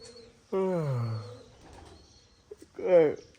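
Two throaty pigeon coos, nearby and fairly loud, separated by a short pause.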